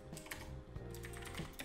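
Quick, soft keystrokes on a computer keyboard as a console command is typed, a steady run of light taps close to the listener with no talking.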